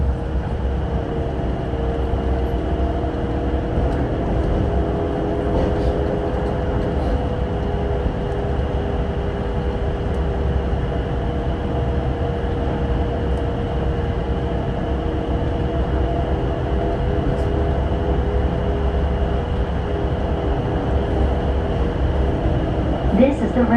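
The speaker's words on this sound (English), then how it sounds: "This train is stopping." The Atlanta airport SkyTrain, an automated train, runs with a steady electric hum and whine, rolling on evenly throughout with a faint muffled voice underneath.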